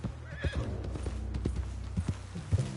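Horse hooves clip-clop in uneven steps in a video game, with a short whinny rising among them, fairly quiet and close.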